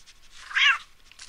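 A single short cat meow from Postal 2 rises and falls in under half a second, clear and close against near silence.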